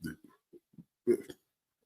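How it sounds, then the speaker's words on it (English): A man burps, a short low gurgling burst followed by a few smaller throaty bits and a second brief low eruption, close and fairly quiet, with no words over it. "excuse me, because I just had to burp"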